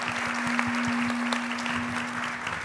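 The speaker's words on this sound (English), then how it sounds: "Let's give our panelists a round of applause." An audience at a women's health innovation panel event claps steadily for the panelists, a dense patter of applause with a faint constant hum beneath it.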